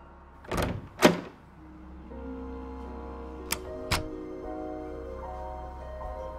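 Two loud, sharp door thumps close together in the video game Tesla Effect: A Tex Murphy Adventure, followed by a steady low hum and two softer clicks later on, with no talking.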